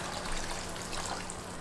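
Water poured from a cup into a pan of stir-fried carrot and stock powder for a cottage pie filling, a steady soft trickle and splash running alone throughout, fairly quiet and close.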